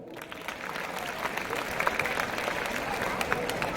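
Children in a classroom during a Hindi Day lesson clapping for themselves, a dense burst of applause rising and holding steady, with some scattered voices among the claps.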